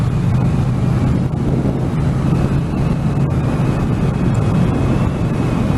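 A Triumph Street Cup 900 motorcycle engine drones steadily while riding on a country road, a constant loud rumble heavily mixed with rushing wind noise against the helmet microphone.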